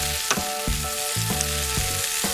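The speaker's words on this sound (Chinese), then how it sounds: "再把提前煎好的五花肉倒入锅里开始翻炒" Pan-fried pork belly and fermented black beans are stir-fried in a wok, making a steady sizzle broken by repeated scraping stir strokes. Background music plays throughout.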